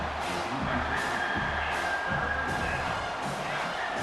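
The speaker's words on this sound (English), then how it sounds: "Decibels rising as the crowd gets behind this defense on 3rd down." The stadium crowd in the College Football 25 video game roars behind the defense on third down, a steady, loud, dense wash of cheering that runs throughout.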